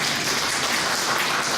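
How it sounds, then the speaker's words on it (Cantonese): Congregation at a Christmas service applauding the host church, with a continuous even wash of many hands clapping throughout. "俾啲掌聲佢哋"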